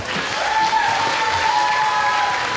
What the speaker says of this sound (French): Il y a Aurore, que je vous demande d'applaudir également.